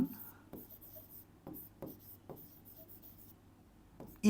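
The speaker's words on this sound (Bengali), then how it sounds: "ধরো আমি লিখলাম মুস্কান" Someone writes out a sentence for an English grammar lesson, producing a series of faint, close scratchy strokes at a steady, unhurried rhythm in a quiet room.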